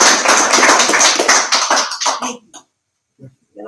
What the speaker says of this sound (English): And let me applaud you.